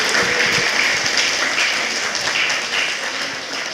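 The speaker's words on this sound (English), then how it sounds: "Can we get a round of applause, please?" Audience applause at the 2021 Affton and Dreams for Schools STEM Showcase, a steady, fairly loud field of clapping hands from a sizeable crowd that holds evenly and fades slightly toward the end.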